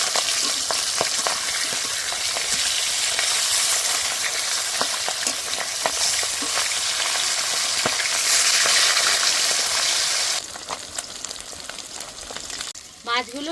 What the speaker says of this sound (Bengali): মাছগুলো এবার উল্টে দেব। বাবা, একদম তেল ফুটে যাচ্ছে।